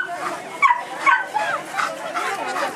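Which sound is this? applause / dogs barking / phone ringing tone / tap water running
dogs barking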